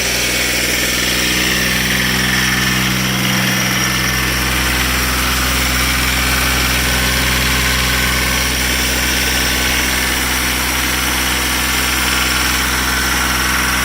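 A 1984 Cub Cadet 882 diesel garden tractor engine idling with a steady, loud, low rumble and vibration that runs unbroken for the whole stretch.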